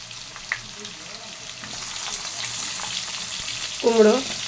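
Eggplant goes into vegetables already frying in a wok, giving a soft, steady sizzle with scattered crackles, then a brief louder rush near the end, with no voices.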